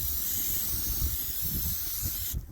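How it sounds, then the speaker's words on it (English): Cooking oil sprays onto raw ribs in a steady, close hiss lasting about two seconds, then cuts off abruptly near the end. "spray on oil."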